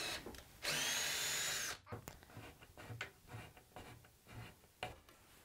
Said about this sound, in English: I'm going to drill and tap the holes for the bolts that will hold those boards down